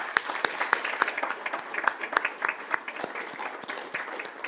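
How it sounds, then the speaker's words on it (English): Scattered applause from a modest audience at a school district governing board meeting, sharp individual claps spread evenly across the room, moderately loud and steady throughout without voices. "But Mr. Zukas, if you could stand so we could give you a big round of applause."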